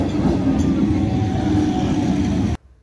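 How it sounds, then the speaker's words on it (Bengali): A train arriving at a station platform rumbles past with a steady low roar and faint squeals, then cuts off abruptly. "আর তারপরে ট্রেনও চলে এসছে"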